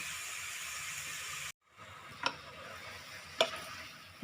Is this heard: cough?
no